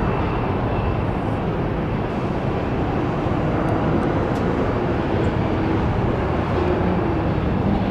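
A Boeing 757 jet taking off from Tampa International Airport gives off a steady, loud roar that holds nearly constant throughout, with no voices over it.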